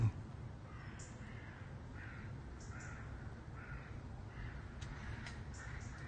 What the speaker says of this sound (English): Those birds almost sound like a kookaburra about to get going.